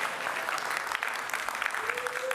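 Conference audience applauding the host, steady dense clapping throughout at moderate level, filling the room without pause.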